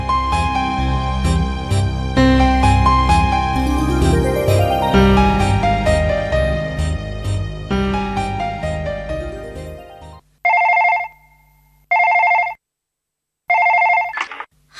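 A telephone bell rings in a Malayalam radio drama, three or four loud, close trilling rings separated by silent gaps, following a swell of dramatic music that fades out just before.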